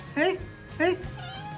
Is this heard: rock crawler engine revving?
no